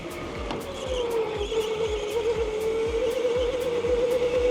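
Turbocharged car cornering hard under boost, its engine note droning steadily and bogging while tires squeal, with rhythmic low thumps throughout and a faint voice now and then.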